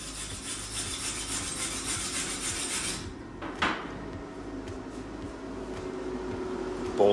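Abrasive scraping and brushing to clean a weld seam after MIG welding with a Sherman MIG 200 Smart, a continuous close rasping for about three seconds, then a brief knock and quieter intermittent rubbing.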